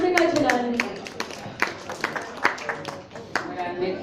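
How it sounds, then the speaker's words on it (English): An audience at a women's day awards event claps for an honoree, scattered hand claps close by, loose and uneven, with voices talking through the applause. "big round of applause for Jyotika Chalani"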